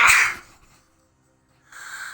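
One sharp, close sneeze bursts out at the start, followed by near silence and then a soft breathy noise.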